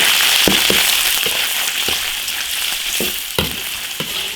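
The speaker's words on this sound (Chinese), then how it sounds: "腊肉下锅炒" Cured pork belly stir-frying in a hot wok, a loud dense sizzle punctuated by sharp rhythmic scrapes of a spatula against the metal.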